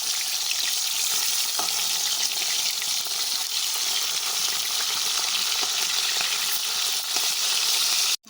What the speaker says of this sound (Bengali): উল্টে পাল্টে আর এক পাশ ভালো করে ভেজে নেব